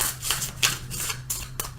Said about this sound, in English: Let's do a really quick shuffle.